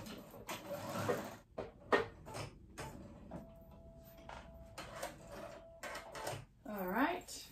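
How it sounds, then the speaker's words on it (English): Rapid mechanical whirring of a sewing machine sewing a straight stitch on a dress, running in short bursts, starting and stopping several times, close by, with a brief spoken sound near the end. "Just a straight stitch on our sewing machine."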